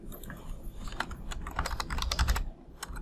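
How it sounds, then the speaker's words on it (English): Quick clicking keystrokes on a computer keyboard, a brief close burst of typing at moderate volume with no speech. "So don't worry, you just have to type something."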